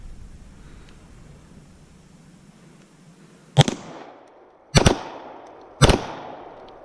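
A pistol bump fired outdoors, three sharp, loud shots spaced about a second apart after a few seconds of low background hiss, each leaving a short ringing echo.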